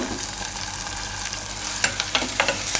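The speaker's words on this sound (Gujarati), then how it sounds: "ડુંગળીને થોડીક વાર પાકવા દેવું આપણે તેલમાં જ થોડીક વાર ઢાંકી દઈશું." Onions frying in oil in a home kitchen pan, a steady soft sizzle with a few sharper crackles and stirring clicks near the end, no talking.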